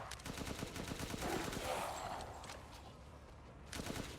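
Rapid gunfire in the video game Resident Evil Village, a dense stream of shots at low volume running throughout with faint ambience.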